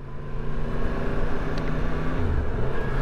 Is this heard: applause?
no